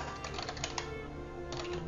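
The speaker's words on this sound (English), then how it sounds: "I'm just kind of typing." Computer keyboard typing while coding in Dart for Flutter development: a run of quick, light key clicks in uneven bursts, close and fairly faint, with a low steady room hum underneath and no talking.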